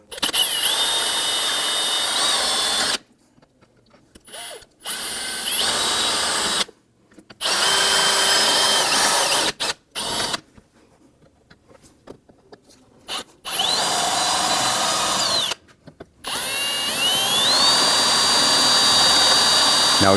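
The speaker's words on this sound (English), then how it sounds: "we're going to drill at the center of these rivets" A power drill bores out the rivets on a bumper bracket of a 2017-2020 Hyundai Elantra, a loud close high-pitched whine running in long bursts of several seconds separated by short pauses, with no talking.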